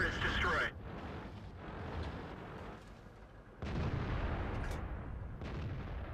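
Tank cannon fire in World of Tanks, an M56 Scorpion battle, with heavy booming shots and a sustained rumble of engine and battle noise, under a commentator's voice.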